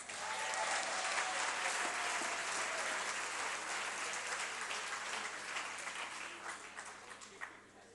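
Parliament members applaud during the South African finance minister's budget speech, a loud, dense burst of clapping that gradually thins and fades out over several seconds.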